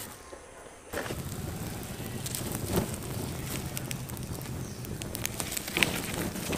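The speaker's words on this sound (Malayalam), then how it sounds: "നല്ലപോലെ തീ കത്തി തുടങ്ങിയിട്ടുണ്ട്." Fire burning in a kiln, a steady low roar with scattered crackles and pops, close and continuous after a quieter start.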